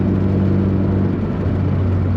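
Steady, loud low rumble and hum of a car being driven, heard from inside the cabin, continuous with no breaks.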